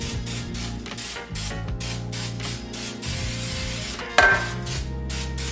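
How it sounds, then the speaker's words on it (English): Baker's Joy baking spray hisses from an aerosol can into a bundt pan in a rapid series of short bursts, close and loud, with a metallic clatter partway through. "I'm gonna spray it down with a little bit of Baker's Joy."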